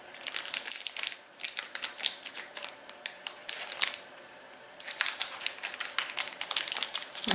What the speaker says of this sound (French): Ciseaux de gaucher.